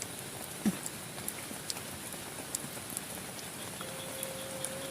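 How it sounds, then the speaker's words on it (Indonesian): Steady heavy rainfall in a forest campsite, a continuous dense hiss with scattered louder drops striking nearby surfaces and a faint thin tone late on, with no speech. "Memang hujannya nggak berhenti teman-teman."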